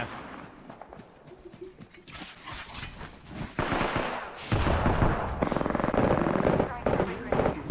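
Gunfire in the Apex Legends video game, with sharp rapid shots building in loudness and becoming dense toward the end, mixed with game noise and people talking.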